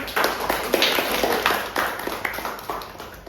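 A small group claps in a classroom or lecture setting, with uneven bursts of hand claps that rise and fall over a few seconds, fairly close and moderately loud.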